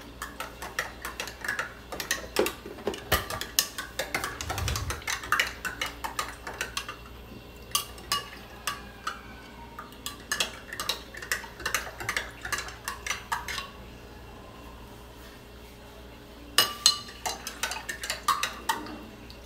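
Spoon clinking and scraping around a cup as an oat drink is stirred, a run of light metallic ticks in irregular bursts, close and fairly quiet, with a short pause before a final flurry of taps.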